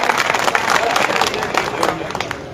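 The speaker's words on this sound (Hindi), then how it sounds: "जोरदार तालियां बजा करके स्वागत करें" A large crowd at a political workers' rally in Haryana applauds loudly, with dense, sustained clapping close around and a few scattered voices mixed into the ovation.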